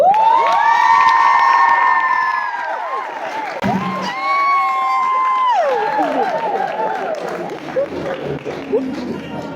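Loud crowd cheering and whooping at a career fair in Kenya, with sustained high-pitched shouts and voices rising and falling, partly interrupted by a brief dip before the cheering resumes.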